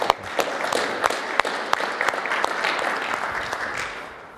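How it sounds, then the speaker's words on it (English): An audience at a tech talk applauds the speakers. Many hands clap in a fairly close, steady burst with a few sharper individual claps standing out, and there is no speech. "let's give an applause for Toma and Prashant."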